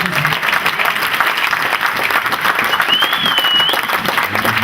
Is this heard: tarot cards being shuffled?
no